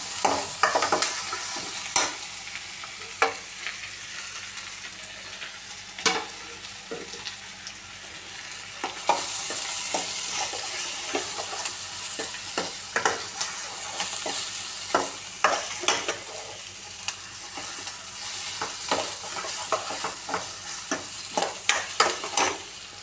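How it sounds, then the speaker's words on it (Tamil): Meat curry frying in a pan with onions turning brown, steady soft sizzling broken by scraping stirs and spoon clacks on the metal, close and fairly quiet with no talk. "நல்லா கிளறி விட்டுக்கிட்டே இருக்கணும், இல்லைன்னா அடி பிடிச்சிரும்."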